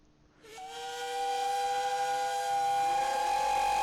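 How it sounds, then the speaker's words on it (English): Several Talyllyn Railway steam locomotives, including Sir Haydn, blow their whistles together in a long, steady, loud chord. The sound rises in after a brief quiet start and holds without pause. "all of the engines, including Sir Hayden, which was out of steam, have been hooked up to blow their whistles"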